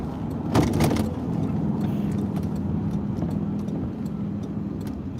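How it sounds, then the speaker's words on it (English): Steady low rumble of a 2001 Lincoln Town Car being driven, with a brief louder bump or clunk near the start and faint rattles over the continuous cabin drone. "Driving the 2001 Lincoln Town Car"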